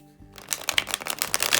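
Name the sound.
shuffling a tarot card deck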